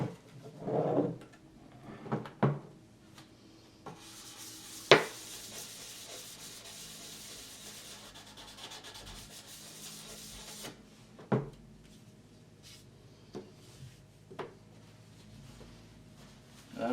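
Intermittent scratchy rubbing of sandpaper on a guitar headstock over a waterslide decal, with soft handling bumps and a longer stretch of steady hissing abrasion in the middle.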